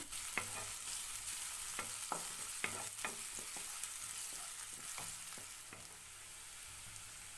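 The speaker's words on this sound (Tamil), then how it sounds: "2 நறுக்கின பெரிய வெங்காயம் சேர்த்து ஒரு 2லேருந்து 3 நிமிஷத்துக்கு வதக்கி விட்டுருங்க" Steady sizzling of chopped onions sautéing in hot oil, with a few clinks of a utensil stirring the pan, close up and no talking.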